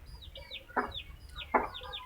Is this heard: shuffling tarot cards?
no